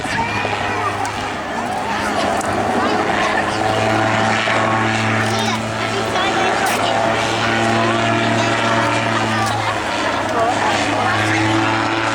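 An autogyro flies a display at the 2016 Rhyl Air Show, its propeller engine droning loud and steady with a throbbing low hum and shifting pitch, while a commentator talks over it throughout.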